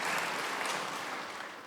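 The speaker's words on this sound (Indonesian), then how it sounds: "Tepuk tangan buat Tuhan." Sustained congregational applause fills a church service, a dense steady wash of clapping from many hands that fades slightly toward the end, with no voices over it.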